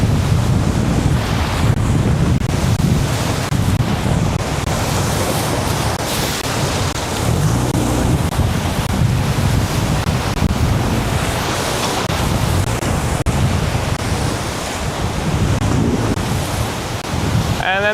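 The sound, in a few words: safety boat crossing big whitewater river waves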